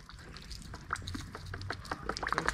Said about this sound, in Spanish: Estamos regando la moto para ver si crece un poquitito.